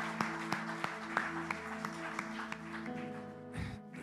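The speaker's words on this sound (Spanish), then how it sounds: "Dale fuerte el aplauso al Señor." A church congregation claps for the Lord during a bilingual sermon, rhythmic steady claps at an even beat over a sustained droning musical tone, moderately quiet and without speech.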